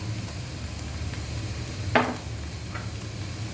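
Onions frying in a pot with cardamom, cinnamon, bay leaf and ginger-garlic paste added, giving a soft steady sizzle with one brief clatter of stirring near the middle.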